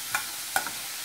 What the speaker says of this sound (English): So now I'm going to add my onions and cook those until they're just lightly golden brown.